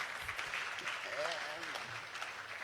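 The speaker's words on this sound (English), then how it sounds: "Can we get a quick round of applause for these guys?" Quiet, distant applause from attendees at a Free Market Medical Association chapter gathering in Houston, Texas, honoring physicians in the room, steady clapping with voices speaking over it partway through.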